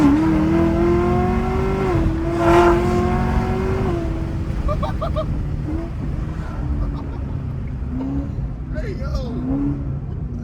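Chevrolet Camaro ZL1 V8 engine revving hard under acceleration, then dropping pitch through quick automatic downshifts, heard from inside the car with people talking and exclaiming over it.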